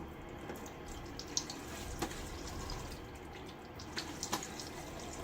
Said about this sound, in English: I'm gonna get my face wet again and start lathering up